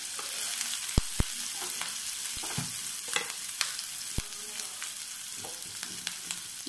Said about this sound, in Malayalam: അപ്പോൾ ഞാൻ പച്ചമുളക് ഇട്ട് കൊടുക്കുകയാണ്.